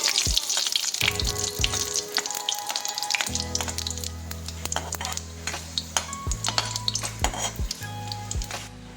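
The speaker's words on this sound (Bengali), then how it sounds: "একই তেলে দিয়ে দেবো দুটো তেজপাতা একটা শুকনো লঙ্কা আর একটুখানি গোটা জিরে নেড়ে চেড়ে একটু ভেজে নেব" Bay leaves, a dried red chilli and whole cumin fry in hot oil with a steady sizzle, while a utensil scrapes and clinks against the pan in repeated strokes of stirring, close and fairly loud.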